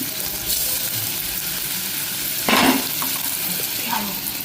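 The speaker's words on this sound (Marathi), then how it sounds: "त्या रव्यात मी मच्छी घोळवून घेतली आहे छान तिला कोट करून घेते आणि तव्यात तळण्यासाठी टाकते" Rava-coated bhakas fish with garlic fries on a hot tava, giving a steady close sizzle with a brief louder burst midway and faint utensil clinks.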